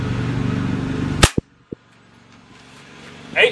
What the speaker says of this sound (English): And this last one here, shoot it again.